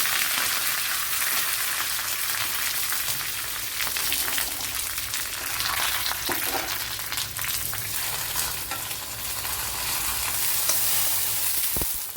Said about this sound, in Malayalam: ഇതിലേക്ക് കറി ലീവ്സ് ഇട്ട് കൊടുക്കുക. അതിന് മുമ്പ് തന്നെ 2-3 വറ്റൽമുളക് ഇട്ട് കൊടുക്കുക.